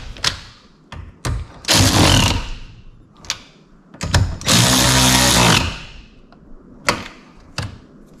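A power tool drives 10mm nuts on Discovery 3/4 towing mirrors, loud close bursts of whirring and ratcheting in several separate runs with sharp clicks and knocks between them.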